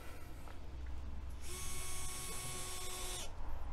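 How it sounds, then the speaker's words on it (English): Power screwdriver driving the last screws into a BroodMinder-W3 full hive scale: a steady high motor whine that runs for nearly two seconds over low background noise. "we skipped ahead a little bit to show the last screws going in place"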